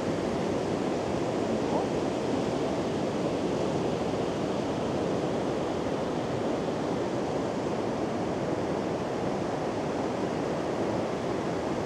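Large ocean waves roar at Lamane Beach as a steady, dense wash of surf that stays loud and constant throughout, with no voices heard.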